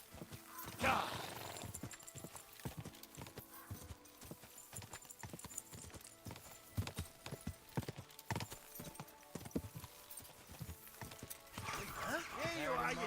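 Rapid hoofbeats clatter in a steady galloping rhythm throughout, with a horse whinnying near the start and voices talking over the hooves, in the video game Kingdom Come: Deliverance II.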